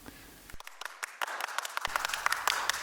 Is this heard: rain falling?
no